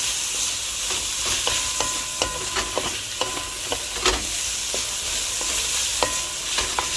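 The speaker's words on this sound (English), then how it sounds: "I must fry up saltfish a little bit, right?" Steady sizzling of saltfish frying in a pan, with scattered clinks and scrapes of stirring throughout, no voices.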